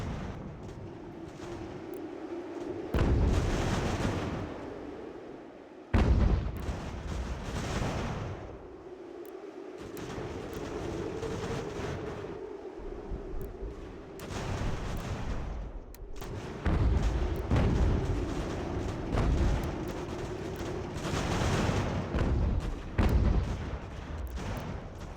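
Gunfire and artillery roar across an American Revolution battlefield in the video game Ultimate General: American Revolution, with repeated heavy booming volleys and cannon blasts recurring every few seconds over a steady battle din.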